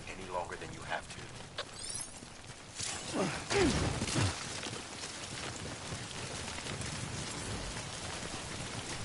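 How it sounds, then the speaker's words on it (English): Heavy rain in the video game Death Stranding hisses steadily throughout at moderate level. Brief thuds and clattering come through in the middle, and talk runs over the rain. "Don't stay out in the rain any longer than you have to."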